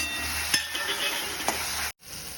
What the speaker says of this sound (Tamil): தக்காளி, புதினா எல்லாமே நல்லா வதங்குது